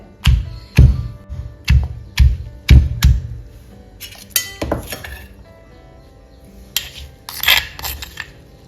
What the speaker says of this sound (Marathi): लसूण टाका आणि तोही असाच कुटून घ्या